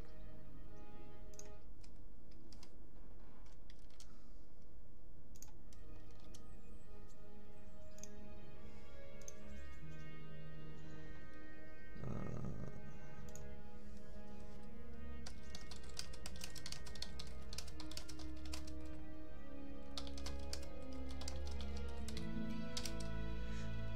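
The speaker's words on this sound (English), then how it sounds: "Just typing a message to a friend." Typing on a computer keyboard, bursts of quick key clicks with pauses, close and clear, growing denser toward the end with no talk.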